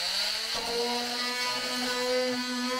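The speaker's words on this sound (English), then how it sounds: "cut this thing out using my multi-tool" An oscillating multi-tool cuts away a shower faucet handle whose screw is badly rusted, giving a steady, close buzzing whine that shifts pitch abruptly early on and then holds as the blade bites.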